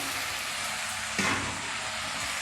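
A jackfruit bulb curry sizzles and fries steadily in a pan as it is sautéed, a dense continuous hiss with one brief scrape of stirring partway through, close and even.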